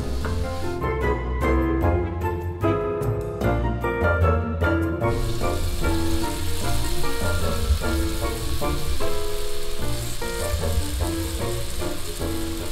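Onions caramelizing in a pan give off a loud, steady sizzle, and a spoon scrapes and clinks repeatedly against the pan as they are stirred throughout.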